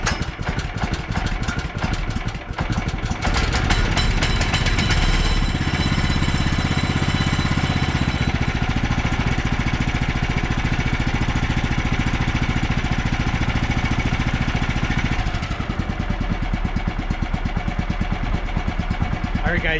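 Sawmill engine running cold on a damp day at a rough, uneven idle, a loud continuous mechanical drone with a choppy pulse that shifts slightly partway through.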